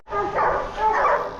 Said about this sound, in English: He's got a bunch of hound dogs.